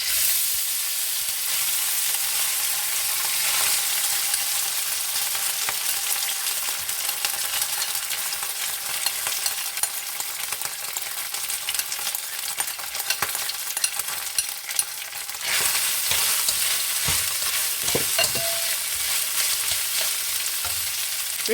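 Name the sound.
rice and vegetables stir-frying in oil in a pan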